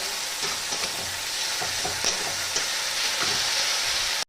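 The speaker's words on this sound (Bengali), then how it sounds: "এটাকে আবারও একটু ভালো করে কষিয়ে নেব" Chicken keema with garlic and ginger paste stirred and sautéed in a hot pan, giving a steady loud sizzle with scraping spatula strokes throughout, no voices.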